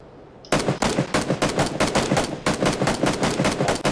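Rapid automatic gunfire aimed at the player in a video game squad shooter starts abruptly and keeps going as steady, loud, evenly spaced bursts of shots, with no talking.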